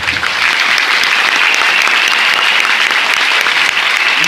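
Steady, loud applause fills a university seminar hall, dense clapping from a large student audience holding at full strength from start to finish with no voices over it.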